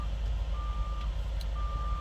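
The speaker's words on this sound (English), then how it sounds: "there's somebody backing in here now that I'm videotaping" A truck backing in sounds a reversing alarm: two long steady beeps separated by a gap, over a low constant engine rumble nearby.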